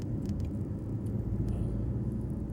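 Night road traffic in Riyadh with trucks passing makes a steady, low, rumbling drone of engines and tyres, heard at moderate distance with no talk.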